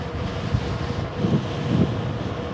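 Gusty wind buffets the microphone during a ride on a heavy Wired cruiser bike, a constant low rumble that swells in waves over the clip, loud and close with no voices.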